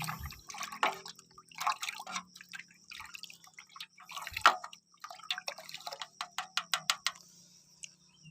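A liquid organic fertilizer made from fruit waste is stirred in a container. It gives quiet, irregular watery taps and drips that grow into a quicker series of soft splashy clicks near the end, with no talk.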